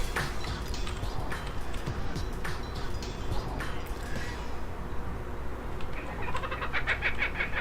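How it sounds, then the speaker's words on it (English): A Kookaburra Laugh sound in Dota 2, a bird-like chattering cackle heard over a busy game soundscape, with a burst of rapid trilling calls rising near the end. "there's the Kookaburra Laugh is available if you have the compendium"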